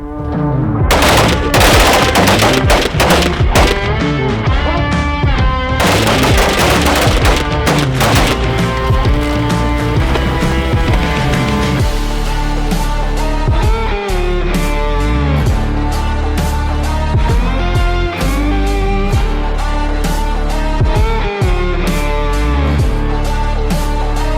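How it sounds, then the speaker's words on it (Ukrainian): Rifles fire on command during a military basic training shooting drill, producing dense, rapid, loud bangs that overlap almost continuously throughout. "Два постріли по команді ап'ю. І так до того моменту, поки не закінчиться патрон."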